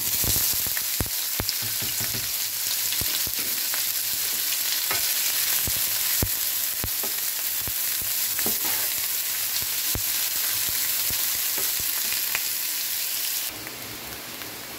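Onions sizzling in hot oil in a pan, a loud, steady crackle with frequent stirring scrapes and clicks running close up throughout, easing slightly at the very end; no speech.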